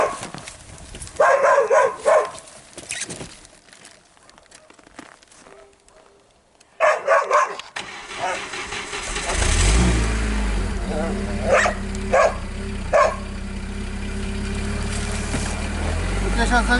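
A car engine starts and settles into a steady, loud idle as it warms up, outdoors in cold weather with clean, ice-free windows, after some brief talk and shuffling noises.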